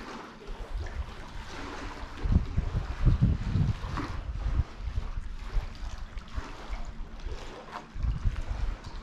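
A motorboat approaching on the Salt River, heard as a low droning rumble that swells and fades under steady wind buffeting the microphone, with water sounds around a kayak.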